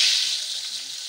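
Tomatoes go into a pan of browned onions and hiss in a soft, steady sizzle of frying that lasts about a second at low volume.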